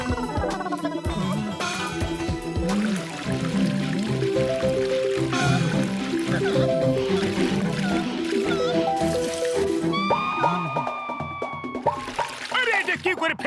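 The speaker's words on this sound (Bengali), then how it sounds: "দাও, আমি ঢেলে দিচ্ছি।" Liquid medicine poured onto rose plants, a soft wet pour that stays under music and people talking throughout.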